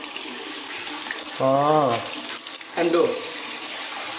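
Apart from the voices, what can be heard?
water running from a tap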